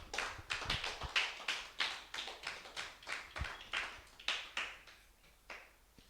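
A church congregation applauds after a scripture reading, with about sixteen distinct rhythmic claps or hand taps at a steady pace, fairly close and alone without talk.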